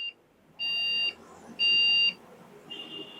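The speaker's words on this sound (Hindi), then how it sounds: "अब ये 3 बीप दे रहा है" A PC motherboard, after a RAM problem with the fans spinning fast, sounds error beeps: three steady, shrill electronic tones about half a second each with short gaps between, the last one softer, heard close up and alone.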